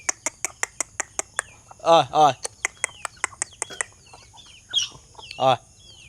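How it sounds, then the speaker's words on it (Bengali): Backyard chickens return to their coop during rain, clucking in soft repeated bursts over a steady run of sharp rhythmic clicks, with thin chirps and a couple of louder, drawn-out calls nearby. "এই যে মুরগিগুলো বাসায় চলে আসছে"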